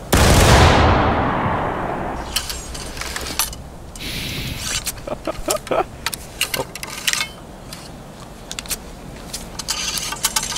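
A musket volley rings out in the War of Rights game, one loud blast at the start decaying into a long echo, followed by scattered metallic clicks and rattles of reloading.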